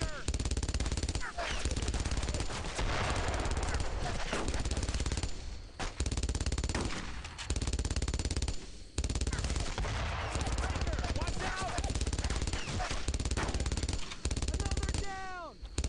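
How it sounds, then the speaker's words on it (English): Machine gun fire in the WWII shooter Brothers in Arms: Road to Hill 30 comes as loud, dense, near-continuous bursts with brief gaps. Battle noise and occasional voices mix in. "Now the MG is a problem."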